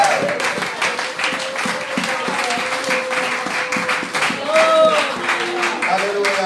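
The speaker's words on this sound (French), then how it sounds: "On va donner le point d'acclamation à Dieu" A church congregation applauds during a worship service, dense clapping running steadily throughout, with a voice calling out and some vocal tones rising over the applause near the end.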